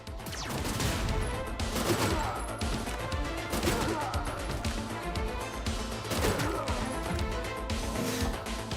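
A cannon turret fires repeatedly in the game Terminator 2D No Fate, its dense crashing blasts overlapping with other loud, busy action effects and running steadily throughout.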